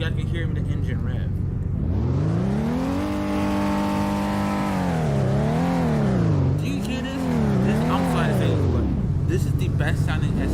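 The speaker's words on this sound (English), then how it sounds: "and so you guys can hear the engine rev." A 2016 Honda Pilot SUV engine revs in manual mode, rising and falling through several loud, close sweeps before settling back to idle, with no talk over it.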